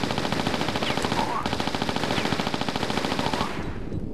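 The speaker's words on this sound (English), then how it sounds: "Let's get the Uzis." Rapid Uzi fire in the Tomb Raider 4 game, a fast even stream of sharp shots for about three and a half seconds before it stops abruptly.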